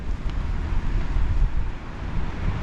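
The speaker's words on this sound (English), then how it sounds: "Oh wow, it's getting windy down here." Strong wind buffets along the Sliema seafront in Malta on a winter evening, a loud continuous rumbling roar with gusty low-end turbulence and faint traffic beneath.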